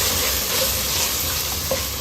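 Masala spice powders with salt frying in a pan for mushroom gravy: a dense, steady sizzle throughout, fairly loud and close, with a faint stirring scrape and no speech.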